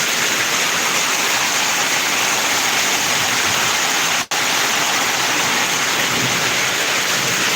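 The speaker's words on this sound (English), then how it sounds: "it's been raining since I showed up" Heavy rain falls as a loud, steady, dense hiss throughout, broken by one very brief cut near the middle, with no talk.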